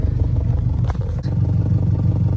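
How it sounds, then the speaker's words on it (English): A Subaru WRX with an exhaust leak idles slightly rough, giving a steady, close, low rumbling drone that runs throughout with only brief dips. "There's an exhaust leak back here."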